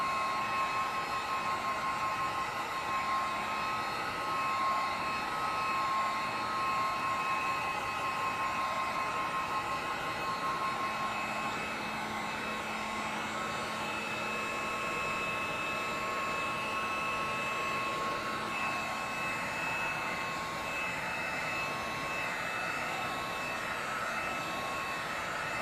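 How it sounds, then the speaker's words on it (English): A heat gun drying paint on an art piece blows a steady, continuous whooshing roar with a faint whine, unbroken and fairly loud throughout with no voices. "My heat gun arm's going to get tired on this one."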